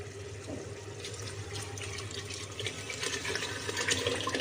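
Hot water and mashed toor dal being poured into a pot of sambar, a steady close liquid pouring and splashing that builds slightly toward the end, without talking.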